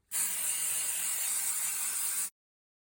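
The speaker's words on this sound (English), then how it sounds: "The quickest and easiest way to put it on there is to use the stick and spray." A steady aerosol hiss of spray adhesive sprays continuously for about two seconds, close and even, then stops abruptly into silence.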